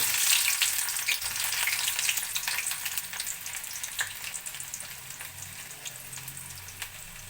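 Chopped onion frying in hot oil with popped mustard seeds for an okra pickle gives a steady, close sizzle with light stirring clicks. It eases slightly over time, and nobody talks.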